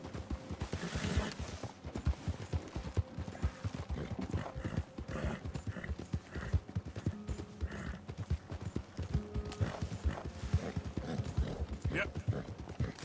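Horse hooves clip-clop steadily in Red Dead Redemption 2, a brisk rhythmic trot of a ridden horse heard close and continuous, with a brief neigh and a voice talking over it.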